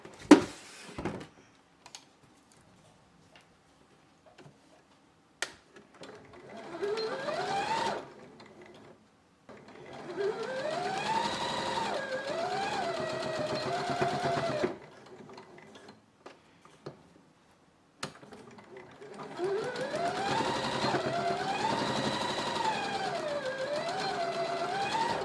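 A sewing machine stitches bias binding onto a hair towel in three close, whirring bursts of rising and falling speed, separated by short pauses, with no talking.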